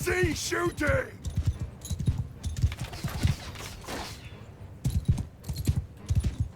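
Horse hooves clip-clop in Mount & Blade II: Bannerlord during a battle, as a steady run of close hoofbeats with a brief whinny-like sound at the start.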